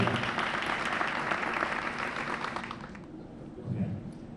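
Round of applause from a community awards audience for an arriving honoree, a dense steady clapping wash that thins out toward the end, with a faint voice near the close.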